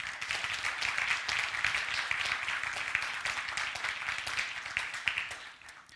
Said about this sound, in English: So big applause for Samuel